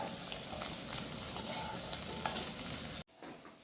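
Masala-coated vegetable stir-fry (upperi) sizzles steadily in a pan while a spoon stirs it through, a dense close frying hiss that cuts off sharply near the end.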